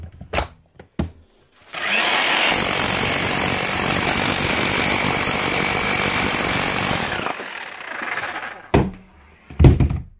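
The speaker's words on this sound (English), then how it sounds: "One Milwaukee hammer. Up and running again." A repaired Milwaukee K500 ST demolition hammer, fitted with new O-rings and grease, hammers loudly and steadily for about five seconds, framed by brief clunks and handling knocks before and after.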